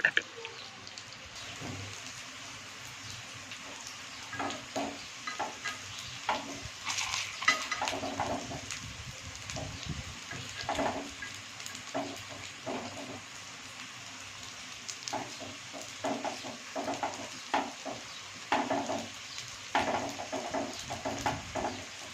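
Sweet potato paniyaram frying in a pan sizzles softly throughout while repeated clinks and scrapes of metal against the pan come as the pieces are turned.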